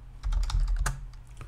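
Fingers tap a computer keyboard in a quick short burst of close, crisp keystrokes, about eight clicks at an uneven pace with one louder key press near the middle, over a low steady hum.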